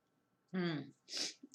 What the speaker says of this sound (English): I feel like I'm going to sneeze through this thing too.